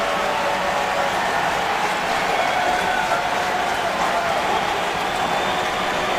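A football stadium crowd cheers and roars steadily throughout at a 2014 NFL preseason game between the Buffalo Bills and Carolina Panthers, a dense, loud wash of noise with no breaks.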